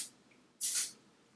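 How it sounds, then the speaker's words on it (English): Two short sprays of foundation hiss from a nozzle onto a face, a faint quick puff followed by a louder half-second burst, up close in a quiet room. "I just like to spray it directly onto my face"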